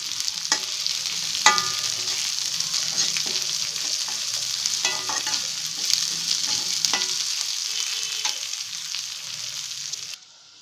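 Moong dal and onion pieces frying in a pan hiss steadily and closely, with repeated spatula scrapes and taps at uneven intervals, until the sound cuts off at the end; no one speaks.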